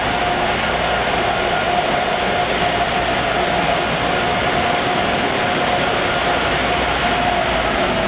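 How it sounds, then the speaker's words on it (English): An Amtrak train approaches the Route 128 station as a steady, loud rumble and rushing roar that holds unbroken the whole time, with no voices over it. "Train approaching."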